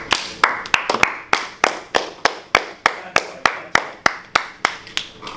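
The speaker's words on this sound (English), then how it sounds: "let's give him a round of applause for that answer." Classroom applause for a student's answer: a group clapping steadily with sharp, evenly spaced hand claps that stay loud and close, with no talk over it.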